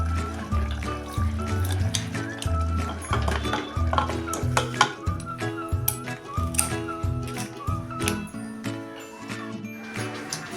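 A spoon scrapes and clinks against the metal pot of a pressure cooker while a mixed curry of moth beans, cauliflower and potato is stirred, with rhythmic metallic taps and knocks over soft liquid sounds.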